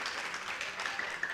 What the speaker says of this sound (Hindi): मुझे एहसास दिलाइए तालियां बजा करके